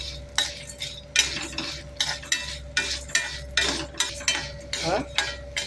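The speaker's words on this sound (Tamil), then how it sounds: "அப்புறம் ஒரு 4-5 பல் பூண்டு, கொஞ்சம் புளி, வரமிளகாய் இதை வந்து நம்ம போட்டு வதக்கலாம்." Garlic cloves, tamarind and dried red chilies sautéing in a pan in a home kitchen, with a steady sizzle under repeated scraping stirs of a metal spoon, about one stroke every second, close and moderately loud.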